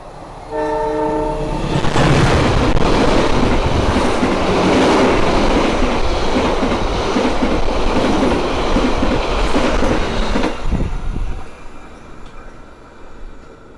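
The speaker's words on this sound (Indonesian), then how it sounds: "Itu dia kereta api Malabar dari arah berlawanan dan ngebut juga ya di sini." The KA Malabar passenger train speeds through Cipari station, preceded by a few short horn notes, then a long, loud roaring rush of wheels and carriages passing close by before fading away.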